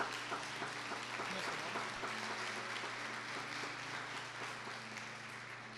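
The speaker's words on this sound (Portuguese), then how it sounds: "vamos aplaudir a glória de Deus na vida dessa irmã" Congregation in a church applauds at moderate distance, a rough continuous clapping over a steady low hum, with a person speaking briefly over it.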